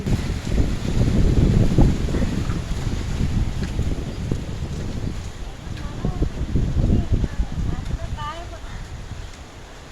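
Strong wind buffets the microphone in heavy low rumbling gusts, rising and falling throughout, with faint bird chirps in the background.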